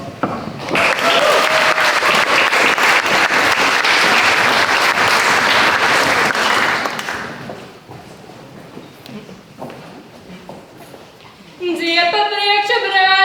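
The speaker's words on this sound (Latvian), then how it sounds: "Ar vētrienām ovācijām sagaidām Liepājas ķoci" A crowd at a youth ethnographic festival applauds loudly in a long, dense burst that fades out after several seconds, followed by a lull with faint murmuring before the Liepāja choir's singing begins.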